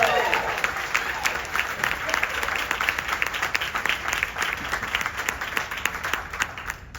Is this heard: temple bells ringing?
no